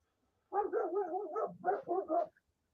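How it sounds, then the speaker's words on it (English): Several dogs bark and yip in a close, continuous run of overlapping calls lasting about two seconds, alone against a quiet background. "now they'll bark at the fucking meth heads"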